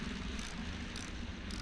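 A fighter plane engine drones overhead in the Battlefield 1 game, a close, steady roar with rhythmic swells, alone without voices.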